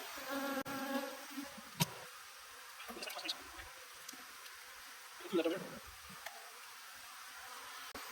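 Faint, continuous buzzing of honeybees in an open hive hums throughout, broken by occasional clicks, taps and soft rustling, with no voices.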